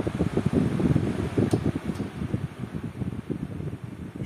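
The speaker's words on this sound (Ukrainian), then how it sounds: "Якщо ви купили вентилятор, а він виявився надто шумним," A noisy electric cooling fan whirs steadily and close by, its motor hum even at minimum speed carrying a fluttering low rumble with no talk.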